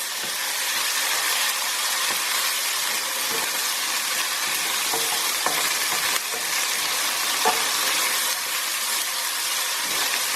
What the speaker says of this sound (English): It's time now for our ginger and garlic to go in. We're just going to stir that through for a couple of minutes